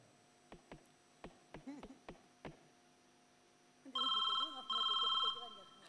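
A telephone call in progress: a series of sharp clicks and some muffled handling, then two loud, close ringback tone bursts near the end.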